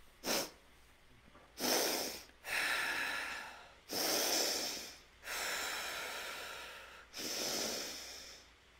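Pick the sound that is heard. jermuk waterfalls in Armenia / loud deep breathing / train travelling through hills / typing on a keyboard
loud deep breathing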